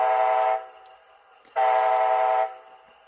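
A Bachmann HO scale Amtrak ALC42 Charger model locomotive with a sound decoder sounds its horn twice, two long, loud blasts separated by a short pause, with a faint steady engine hum underneath.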